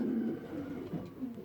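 Racing pigeons in a loft coo in soft, repeated throaty notes as cocks court the hens, heard close and clear for a moment.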